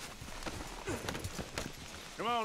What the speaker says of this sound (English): Where's my horse? Here it is.